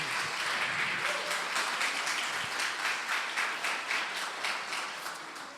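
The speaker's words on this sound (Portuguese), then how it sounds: "vamos aplaudir ao Senhor pela vida da pastora Simone" A church congregation applauds with dense, sustained clapping from many hands, close and even throughout, fading slightly toward the end.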